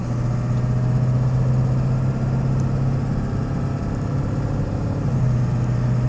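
A 2002 Ford Excursion Limited 2WD with the 7.3L Powerstroke diesel drones steadily under load from inside the cab, the low engine hum dipping briefly near the end as the transmission changes gear, with no talking.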